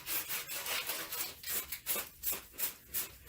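Sandpaper rubs burrs off a freshly cut pipe end, a steady back-and-forth scratching in a regular rhythm, close and fairly quiet with nobody speaking.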